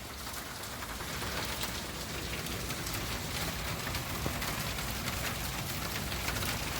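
Continuous rain falls in an even, rushing wash of drops, constant and fairly close.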